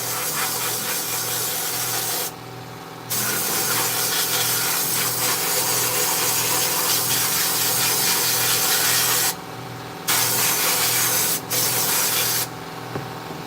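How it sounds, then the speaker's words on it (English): Sand being worked over a knife handle during finishing, a loud, steady, close rushing hiss like spraying grit that cuts out briefly several times before starting again. "Sometimes you got to give that sand a little jiggle."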